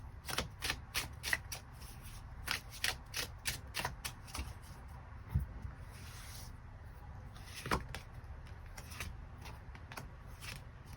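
Tarot cards being shuffled by hand in a quiet room, a rapid series of crisp riffling bursts with short pauses between, close and fairly soft, no talking.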